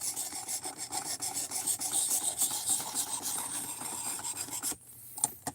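A K-Bar knife with OS 8A steel scrapes steadily against a sharpening stone in quick repeated strokes, a close, dry rasping that stops abruptly near the end.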